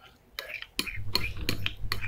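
A spoon stirs a homemade slime mixture with a little liquid soap, making repeated soft scraping and clinking strokes against a bowl in an uneven rhythm, close and clear.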